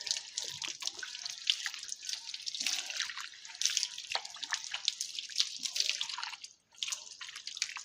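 Tap water running and splashing over hands during wudu washing: a steady close patter with brief drops and a short pause near the end.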